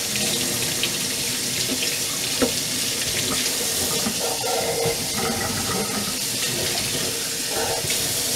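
Kitchen tap running steadily into a sink while hands and a butter-coated utensil are rinsed, a continuous close splashing flow with slight shifts as things pass under the stream.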